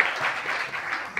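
Audience applause at the launch event of a Tunisian SEO club, a steady wash of clapping for just over a second with no speech over it, ending in one sharper clap.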